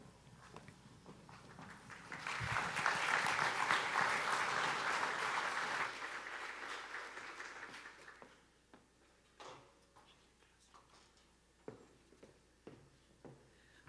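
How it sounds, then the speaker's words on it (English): At a community forum, the audience breaks into applause, swelling quickly to a full burst of many hands, holding for a few seconds, then fading into scattered isolated claps and room noise. "can we give another round of applause for Mayor Ginther, for our panel, all of the presenters?"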